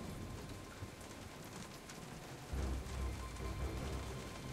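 Heavy rain of a storm in the Telltale Jurassic Park video game hisses steadily, then a deep low rumble swells in partway through and carries on beneath the downpour.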